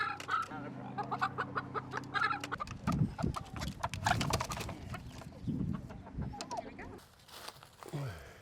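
Hens new to a farm cluck repeatedly at close range, with rustling and movement around them and a low steady hum in the first seconds.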